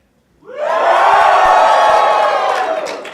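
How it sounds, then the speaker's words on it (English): A crowd at a PAX East convention panel cheers in a vote, a loud burst of shouts and whoops that rises quickly from silence and holds steady for a few seconds. "let's hear a cheer"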